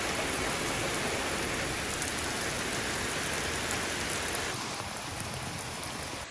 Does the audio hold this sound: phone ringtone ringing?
no